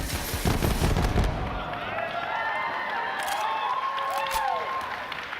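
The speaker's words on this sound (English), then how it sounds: "But if we switch our alternate firing modes, we fire off micro missiles" Micro missiles from a Vladoff pistol's alternate fire mode in Borderlands 3: a loud burst of launches up front, then whistling, whooshing projectiles streaking away over the game's background noise.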